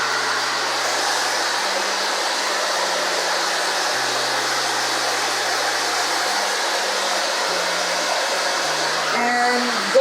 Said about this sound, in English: I'm gonna keep the diffuser on one spot for like a good 10 seconds before I move it.